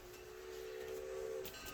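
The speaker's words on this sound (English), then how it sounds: "This is a half hour of train from the minute they get on, the minute they get off, the chugga-chugga-woo-woo" Steam locomotive whistle from a vinyl recording of a steam excursion between Portland, Maine and Island Pond, Vermont: one long steady whistle over a continuous hiss of steam, moderately loud and unbroken.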